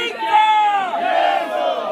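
BJP workers celebrating an election victory in a city street, a crowd raising a loud, sustained chorus of shouts and chants that swells and falls together, close and energetic.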